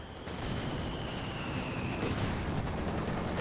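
An MG34 machine gun fires in Company of Heroes 2, its sustained rattling bursts mixed with distant battle noise and rumble, continuous and fairly loud throughout.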